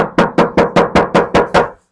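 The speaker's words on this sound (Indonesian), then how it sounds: "Sebelum pasang peredam, ini suara cemprengnya seperti ini ya." Eight sharp knocks on a thin, tinny body panel of a Suzuki XL7 before sound-deadening is fitted, struck at a steady, even rhythm, each hit ringing briefly with a hollow metallic clang, close and loud with no talk.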